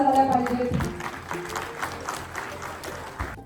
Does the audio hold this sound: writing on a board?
no